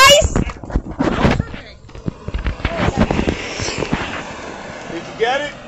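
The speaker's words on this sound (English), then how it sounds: "Look, there's the fireworks over there!" Fourth of July fireworks burst in a series of sharp cracks and pops, loud and fairly close, with excited voices talking over them.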